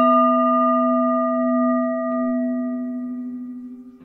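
A chalice-shaped singing bowl rings out in a sound-healing session, a single sustained, shimmering tone with steady overtones that slowly fades over a few seconds, heard alone and close.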